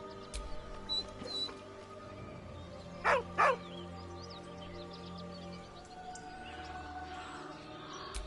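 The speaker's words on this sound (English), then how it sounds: "With a deep, heartbroken whine, the dog bows his head" A dog in Baldur's Gate 3 lets out two short, close whines in quick succession, with fainter whimpers before them, over a quiet ambient background.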